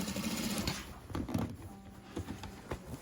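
A sewing machine stitches a seam in short, quiet runs of rapid patter broken by brief pauses and clicks, with no talking over it.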